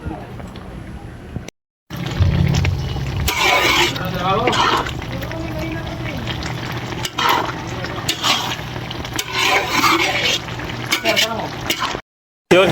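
Snails simmering in a sinantol dish, a continuous bubbling, liquid boil close by, with a voice speaking over parts of it.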